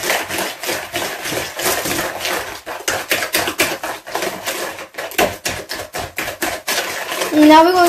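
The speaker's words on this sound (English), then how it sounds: "Now we're going to whisk it." A whisk clatters fast and steadily against a bowl while chocolate cake batter with eggs and sugar is mixed, a busy metallic tapping and scraping close by.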